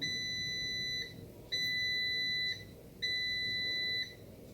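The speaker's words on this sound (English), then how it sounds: "it will give you a reminder beep at 5 minutes, 30 minutes" Three evenly spaced electronic reminder beeps from an Instant Pot Vortex air fryer, each a sustained high tone lasting about a second, over a faint background hum.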